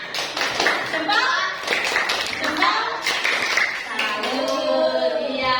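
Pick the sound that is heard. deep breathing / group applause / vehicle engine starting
group applause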